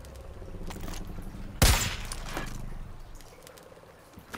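A single loud gunshot burst in the Far Cry 5 video game, a sharp close crack followed by a brief decaying tail over a low game background hum.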